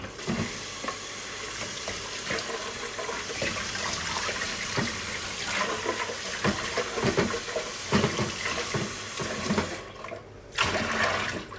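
Tap water running into a sink while a coffee grounds container is rinsed out, a continuous splashing rush with knocks and clatters of handling, close by, briefly cutting out near the end, with no talking.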